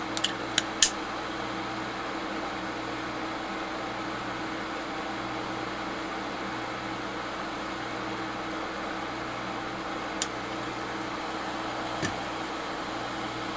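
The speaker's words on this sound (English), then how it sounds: "So let's try a little demonstration of the fume extractor." A soldering station's built-in fume extractor fan runs with a steady, even whir and low hum throughout, accompanied by a few brief clicks near the start and a couple more later.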